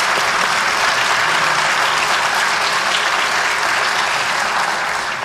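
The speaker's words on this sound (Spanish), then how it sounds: "Le vamos a dar un gran aplauso y un agradecimiento por estar aquí en esta tertulia." Audience applause at a live Spanish-language panel discussion, steady and loud with dense clapping sustained for several seconds without a break.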